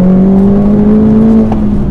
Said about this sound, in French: je suis en deuxième, 3000 tours, pied au plancher.